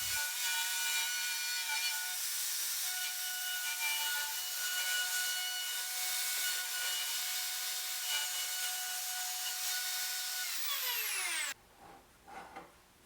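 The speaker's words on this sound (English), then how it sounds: "I made about 4 passes, lowering the router a little bit each time until it was all the way cut through." A router on a pivot circle-cutting jig cuts through a wood board with a loud, continuous, high whine and rough rasp. Near the end it stops cutting, the motor winds down with a falling pitch, and a few soft knocks follow.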